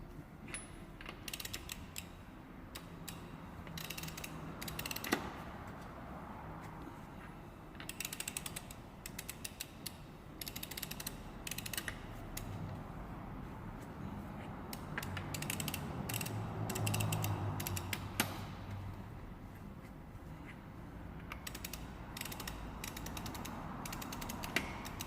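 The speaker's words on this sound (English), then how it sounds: "what I'll do now is I'll just lightly torque these down by hand" Wheel lug nuts get lightly tightened by hand, giving faint, close ratcheting clicks and creaks in irregular bursts against a quiet background.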